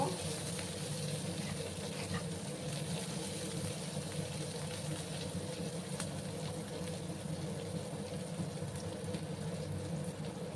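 Chopped onion frying in oil in a pan while cooking a rui fish curry, a steady low sizzle and crackle running continuously at moderate loudness throughout.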